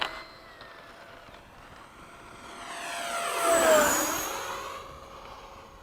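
An 80mm ducted fan RC jet on its stock motor makes a high-speed pass at an RC airfield, its whine rising to a loud peak as it streaks by, then fading away.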